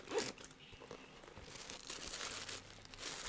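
Plastic packaging crinkles and rustles steadily as a cosmetics bag is pulled out and unpacked, a continuous close, quiet crackling texture with a few sharper crunches.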